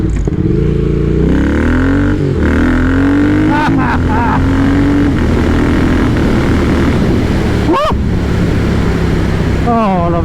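A Triumph Speed Twin motorcycle is being ridden, with a loud steady engine drone and rising revs that shift through gears, plus rushing wind noise, as a rider talks over it.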